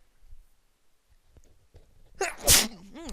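A single sharp sneeze bursts out after a few quiet breaths and small movements, close and loud, followed by a faint trailing voice.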